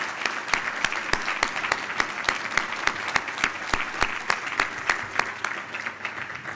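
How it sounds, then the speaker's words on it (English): Applause at an annual meeting for a law school graduate, a moderate room of people clapping steadily with distinct individual claps standing out, continuous and fairly distant. "Let's give Brandon a round of applause."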